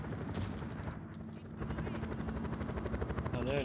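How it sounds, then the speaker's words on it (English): A helicopter in the video game Just Cause 4 gives off a steady, continuous rotor drone, with scattered gunfire-like bursts mixed in and a brief whine near the end. No one speaks. "Sounds like a helicopter somewhere, but I just can't see it."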